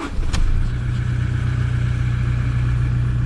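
A Toyota Hilux engine gets a throttle test after an iDrive installation. One sharp rev sets off a steady, loud engine roar that holds at a sustained level, close by, with no speech.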